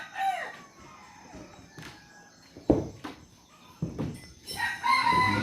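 Chickens clucking nearby at a village chicken coop with a rooster crowing, mixed with scattered thumps and outdoor rustling.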